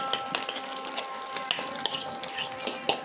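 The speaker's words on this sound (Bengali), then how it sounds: "প্রথমবার ডিম ভাজি" An egg frying in oil in a pan, giving off a steady close sizzle with scattered pops and crackles throughout, and no talking.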